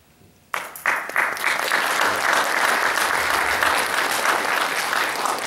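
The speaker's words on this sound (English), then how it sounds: "Well, you clap" Sustained audience applause at a mental health awareness keynote event, bursting in suddenly after a brief quiet and then holding steady and loud as a dense, continuous clapping from a large crowd.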